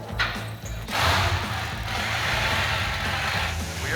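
An old truck's engine runs loud and close with a rough, uneven rumble as the vehicle pulls away, its noise swelling after a brief lull; no speech.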